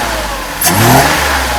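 Mercedes R129 300SL with its M104 engine, freshly repaired fuel distributor, blips a short rev from a steady idle, rising to a loud surge and settling back, close by with no talk.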